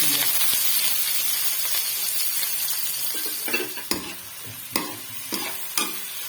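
Chopped large onion dropped into hot mustard oil for fish curry: a steady frying hiss, then a series of sharp, spaced clatters and scrapes as the pieces are stirred, fairly close and alone.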